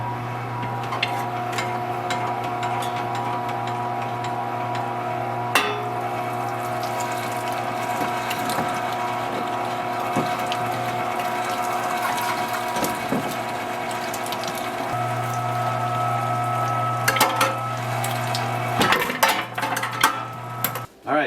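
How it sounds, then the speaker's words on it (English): A meat grinder churns wild turkey breast for breakfast sausage, a loud continuous mechanical whir with a steady motor drone and rattling, ratcheting clicks throughout, a few sharper knocks toward the end, no voices. "we're going to start the grinder and start grinding this up"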